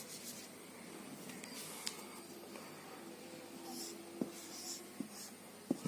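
A pen drawing a diagram by hand during an electrical-machines lesson on synchronous machines gives a quiet, continuous scratching across the clip. A few faint taps are heard, and no one speaks.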